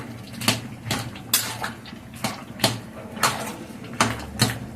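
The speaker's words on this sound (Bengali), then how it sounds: "লাউটাকে একটু ঘুটে দিই।" A spoon or ladle scraping and knocking inside a cooking pot of bottle gourd, about eight sharp, evenly spaced clanks over a low background hum, close and with no talking.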